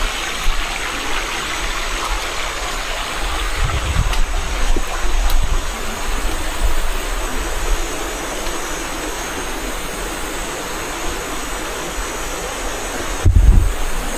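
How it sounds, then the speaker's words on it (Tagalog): A very strong rushing water current roars loud and steady throughout, with wind buffeting and low thumps. "Napakalakas ng agos."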